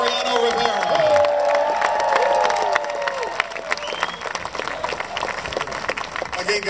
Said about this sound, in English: how about another round of applause for Joe Facina and Mariano Rivera?